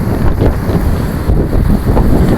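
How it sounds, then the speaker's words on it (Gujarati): Sea waves roll in on Daman beach as the water slowly rises, their wash heard under heavy, continuous wind buffeting on the microphone. "એ બીજી લહેર આવે છે એટલે પાણી ધીરે ધીરે વધે છે"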